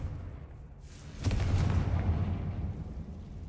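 A Confringo fire spell blasts in the video game Hogwarts Legacy with one booming explosion that rumbles and fades over a couple of seconds.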